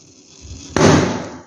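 A water-filled balloon with cellophane tape on its surface bursts after being pricked with a needle, a single sharp close pop after a quiet hiss, followed by a brief noisy decay.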